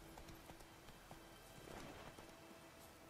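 Horse hooves clip-clopping in The Witcher 3 on PS4, a steady trotting patter over a dense game soundscape, with no voices.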